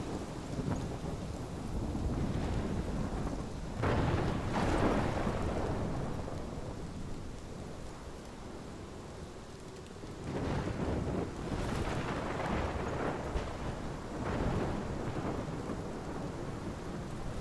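A thunderstorm in the video game Life is Strange: steady rain and wind roar throughout, with heavy rumbling thunder swells around four seconds in and again from ten to fifteen seconds, fairly close and loud, with no voices.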